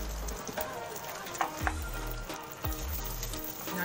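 Beaten egg hits a hot pan and sizzles steadily, a dense crackling fry close up with a few soft scraping stirs, moderately quiet and without talk.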